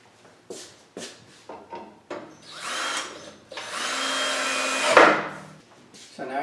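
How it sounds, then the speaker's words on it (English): A power drill drives screws into wood to fix an Accu-Slice band saw accessory in place, heard as several short close whirring bursts followed by one longer loud run that ends with a sharp clunk. "I'll put some screws in there to put everything in its place."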